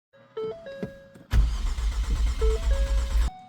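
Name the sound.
car engine cranking, trying to start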